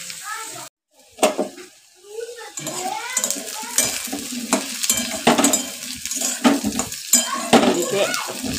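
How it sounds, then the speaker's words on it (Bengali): Potatoes and onion frying in a pan in a home kitchen, with pots and utensils clattering and stirring sounds over a light sizzle, close by, while people talk intermittently. "যেটা হয়ে গেছে, আলুটা ভাজা, পেঁয়াজটা দিয়ে দিয়েছি।"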